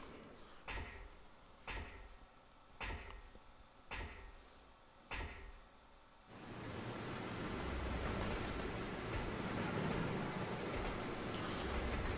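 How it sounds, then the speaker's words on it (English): Rain on a train in the video game Resident Evil Zero: five evenly spaced metallic clanks, then a dense, steady downpour hiss. "It's raining."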